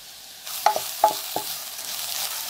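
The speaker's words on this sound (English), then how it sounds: "Saute the couscous a little bit, let it get a little bit golden into the pearl couscous." Pearl couscous sautéing in a hot pan with a steady soft sizzle, broken by three distinct scraping taps of a utensil stirring the grains, close and with no talk.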